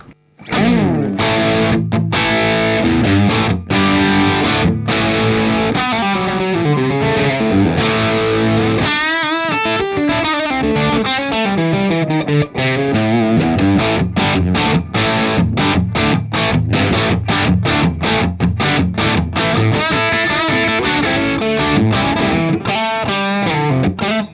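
An electric guitar plays through a distorted three-stage-preamp amp with controls set at noon, chunky chords and riffs with a driven, crunchy tone, loud and continuous.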